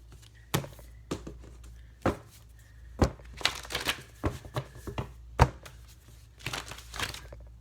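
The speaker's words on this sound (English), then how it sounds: "Let's pull a couple of these cards." Tarot cards being shuffled and pulled, a series of crisp papery slaps, riffles and snaps in uneven bursts, close and fairly quiet with a soft hum in the background.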